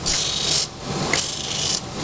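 A metal blade of 65G spring steel, cut from a leaf spring, rasps against a sharpening stone in steady back-and-forth strokes, three long bright grinding passes with brief pauses between them.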